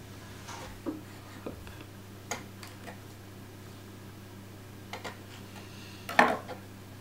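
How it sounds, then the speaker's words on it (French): A knife cuts the hard part of cabbage leaves with a handful of scattered light taps and clicks on a board, the sharpest near the end, over a low steady background hum. "il faut couper cette partie là qui est vachement dure"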